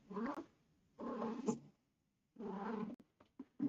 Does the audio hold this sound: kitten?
yes